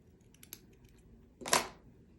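Rick rack trim being snipped with scissors while making a felt Christmas stocking, a few faint small clicks followed by one close, crisp cutting snip, quiet setting with no talk.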